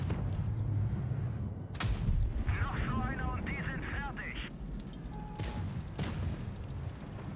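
Tank cannons fire in World of Tanks Blitz, several sharp booming shots spaced over a few seconds amid battle noise, with short whistling tones in between.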